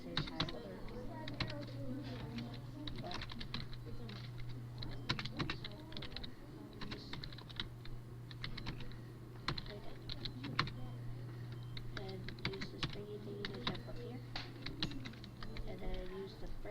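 Steady typing of code on a computer keyboard, irregular clusters of light clicks close by over a low constant hum, continuing throughout.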